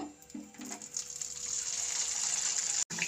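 A tiffin carrier lid filled with batter dropped into hot oil, giving a steady, close, rising hiss of frying that cuts out sharply near the end, with no voices.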